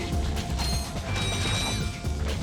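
Hyper strike melee attack in the Ratchet & Clank video game: metallic clanks, whirring and ringing mechanical tones at moderate volume, with a burst of impact noise midway.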